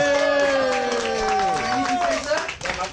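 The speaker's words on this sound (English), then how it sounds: "Applause, please." Applause from an audience at the end of a group session, a crackle of many hands under talking voices and a sliding tonal sound, loud and close.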